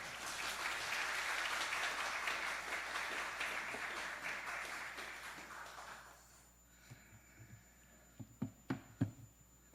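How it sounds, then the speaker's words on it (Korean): Baptist church congregation at Sunday worship applauding to welcome a visiting missionary: a dense, loud round of clapping that thins and fades out after about six seconds, leaving a few scattered thumps and room noise. "열광적인 박수로 환영해 주셔서 감사합니다."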